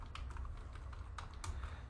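Quiet, close computer keyboard typing of network switch configuration commands, a quick irregular patter of individual key clicks with small bursts and pauses and no speech.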